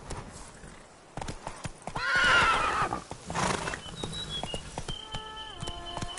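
Geralt's horse Roach in The Witcher 3: Blood and Wine gallops with rapid, close clip-clop hoofbeats, and a loud whinny rises through the middle of the run.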